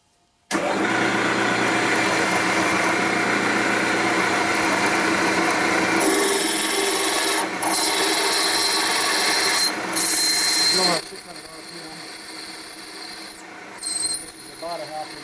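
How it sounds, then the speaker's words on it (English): A drill press bores roughly a half-inch hole through a Harley-Davidson 45 flathead flywheel during a crankshaft rebuild, giving a steady, loud motor whine with grinding cutting noise that shifts pitch partway through. "Okay, I'll go ahead and drill this hole here out."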